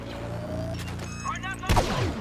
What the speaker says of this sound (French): Ouh, le no-scope au canon à impulsion.